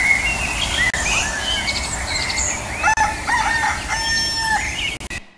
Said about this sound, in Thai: เสียงไก่ที่ไหนขันป่านนี้เนี่ย